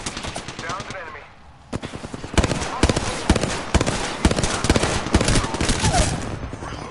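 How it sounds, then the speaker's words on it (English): Rapid bursts of automatic gunfire from a shooter video game, loud sharp volleys in quick succession with single shots mixed in, with players talking over the shooting. "I am taking fire, friends."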